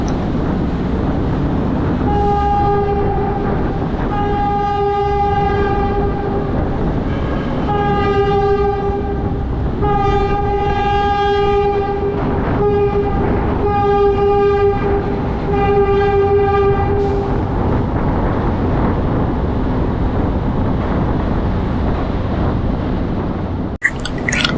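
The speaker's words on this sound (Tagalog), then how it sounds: "ang huling biyahe ng PNR Metro Train" A PNR Metro commuter train sounds a long multi-tone horn in repeated blasts as it passes close by, with continuous rail and wheel noise underneath and an abrupt end.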